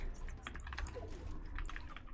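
Rapid clicking keystrokes on a computer keyboard, a dense, uneven patter of taps heard up close and steady throughout with no voices.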